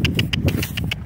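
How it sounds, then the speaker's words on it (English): A horse's hooves beat a quick, regular rhythm of about seven distinct footfalls in a second while cantering, crisp and close. "Come on, Rona. Go on. Let's go. Let's canter"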